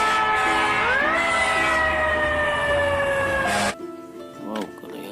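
A toy fire truck siren plays a loud, close electronic tone that rises in pitch and then holds steady before cutting off abruptly, followed by quieter handling sounds.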